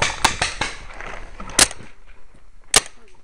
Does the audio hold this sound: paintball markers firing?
yes